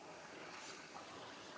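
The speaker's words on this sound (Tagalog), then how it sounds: "ang lakas ng hangin" Strong wind blows outdoors in nature as a steady, soft broadband rush with no breaks, fairly faint and alone, without voices.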